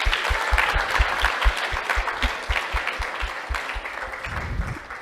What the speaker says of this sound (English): Let's give a huge round of applause to welcome her.